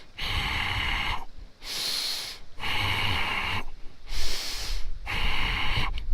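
Five strong nasal in-breaths come close and loud in an even rhythm, each separated by a short pause, during a seated desk workout.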